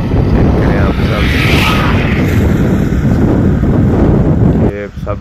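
Strong wind blows outdoors by a roadside under clouds, a loud, continuous roar buffeting the microphone throughout with only brief dips.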